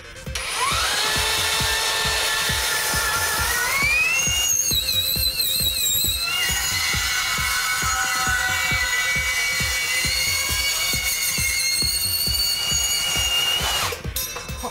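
A HiKOKI 36V cordless band saw (CB3612DA) cuts through wide steel stock: a steady, loud motor drone with a rapid grinding blade rattle and rising, whistling metallic tones that run unbroken for about fourteen seconds before stopping.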